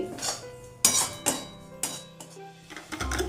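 A spoon stirs spices and amchur powder into gram flour (besan) in a bowl, making close clinks and scrapes in an irregular rhythm with short pauses between strokes.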